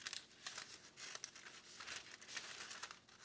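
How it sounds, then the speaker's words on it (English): A sheet of parchment paper is cut in a kitchen, giving quiet, close, crinkling rustles and small crackling snips throughout. "I'm gonna cut a piece of parchment paper."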